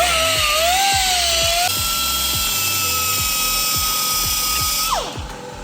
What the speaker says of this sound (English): we cut the nut off the wastegate rod, so reduce the risk of breaking the rod